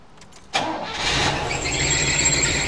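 A 1983 Oldsmobile Delta 88 Royale engine cranks and catches after a short whirr, then settles into a steady idle with a faint whine on top, close by.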